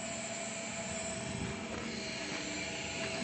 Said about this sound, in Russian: Работает сейчас автореверс.